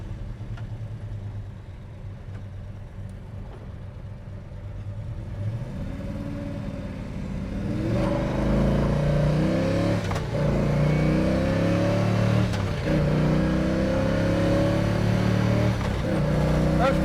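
A 1968 Chevrolet Chevelle SS 396 with a four-speed pulls hard, its engine note climbing, dropping at a gear change and rising again into fourth, loud and close inside the car.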